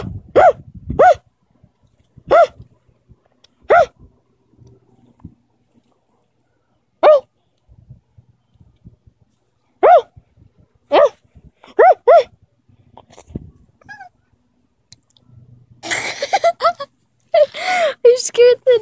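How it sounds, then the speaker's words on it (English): A dog lets out a series of sharp, separate barks spread over the stretch, with soft whimpers and yips in between, while people talk nearby toward the end. "Scared the dog."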